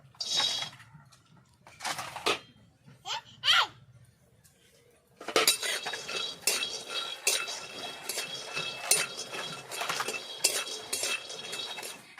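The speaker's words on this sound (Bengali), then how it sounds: "কড়াইয়ে দিয়ে দিব চিনেবাদাম।" Peanuts dry-roasting in a wok, first a few scattered clinks and rattles, then a dense steady rattling and scraping as the nuts are stirred and tossed against the metal, close and fairly clear.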